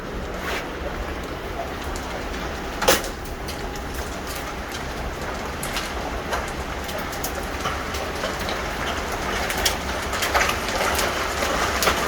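Hail from a massive storm in Norman, Oklahoma, hammers down in a constant, dense roar, growing slightly louder over time, with a few distinct sharp hits standing out.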